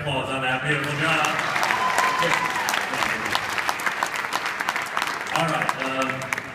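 An audience at a Disney's Hollywood Studios comedy show bursts into loud applause that fills the room, with cheers and a performer's voice over the clapping as it tapers off near the end.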